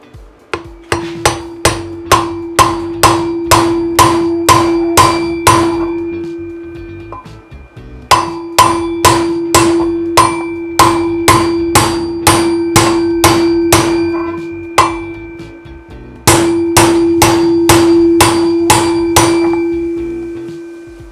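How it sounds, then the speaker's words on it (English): A new wheel bearing for a Ducati Multistrada 1260 Enduro rear hub is hammered in through a socket, sharp metallic clanks in three rapid bursts of about a dozen blows each, loud and close with brief pauses between. "I then hammered the new bearing into the hub, watching that it was going in evenly."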